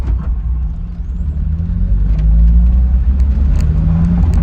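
A car pulls away on a road near Blairgowrie, a loud close low engine rumble that rises and swells steadily, with faint clicks above it.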